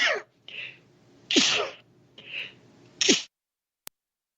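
Repeated sneezes, several sharp bursts in a row, each with a breathy intake before it, close and loud, followed by a small click.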